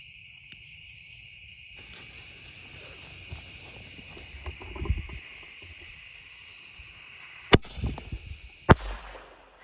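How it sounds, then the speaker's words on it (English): Mini mortar fireworks from a small consumer kit go off in a quiet outdoor setting, with two sharp, loud cracks near the end above soft background rumble and a steady insect-like hiss. "Cute little fireworks."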